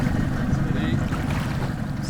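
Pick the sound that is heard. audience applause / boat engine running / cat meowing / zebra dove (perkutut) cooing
boat engine running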